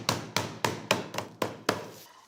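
Digestive biscuits in a strong double bag being crushed by repeated blows, six sharp evenly spaced thuds with crunching that fade slightly, close and alone.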